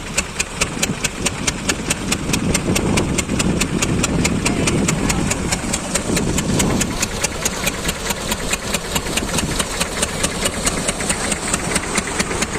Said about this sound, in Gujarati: ટ્રેક્ટર આપણા ઘરનું છે.